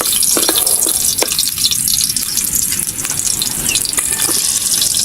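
Garlic sautéing in a hot pan for a Filipino spicy pork dish, a steady close sizzle and crackle with faint scraping, heard alone without voices.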